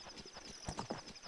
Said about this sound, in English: This horse noise is really nice